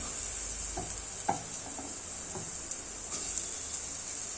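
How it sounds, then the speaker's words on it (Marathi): Onion frying in a little oil in a pan, a quiet steady sizzle with a few soft knocks from stirring, no speech. "हा कांदा ना मी आता भाजून घेणार आहे."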